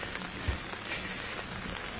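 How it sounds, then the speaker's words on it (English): Rain falls steadily outdoors on a surface during a vehicle plant commissioning ceremony in Uganda, a dense continuous patter with a few louder drops close by, no voices over it. "but of course also receiving some rain as I talk now"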